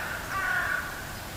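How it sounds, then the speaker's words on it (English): Crows caw in the Hello Neighbor 2 video game, a single drawn-out, harsh call rising clearly over a steady low ambient hum. "Whenever you see a flock of blackbirds, or crows as people would call them, flying like that together, you're gonna know it's not gonna be good."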